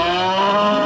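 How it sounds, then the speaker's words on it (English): Dairy cow on a farm of about sixty cows, a single loud, close moo with a rich harmonic tone sustained through the whole moment. "60 cows"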